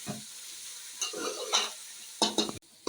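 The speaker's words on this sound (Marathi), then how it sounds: "हा चांगला लाल होईपर्यंत कांदा भाजून घेतला पाहिजे" Chopped onions fry in a pan until red, with bursts of sizzling and spatula scrapes coming in short uneven clusters between quieter gaps, ending in a sudden drop.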